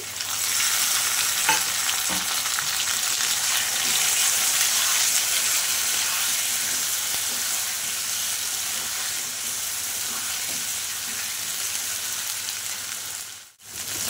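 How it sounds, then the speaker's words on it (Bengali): Spice paste of ground cumin, ginger and green chilli frying with already-browned potatoes in a pan, a steady close sizzle with occasional stirring scrapes throughout, dipping briefly near the end. "এখন আমি এই যে মশলা, জিরে, আদা আর কাঁচা লঙ্কা বাটা দিয়ে দিচ্ছি।"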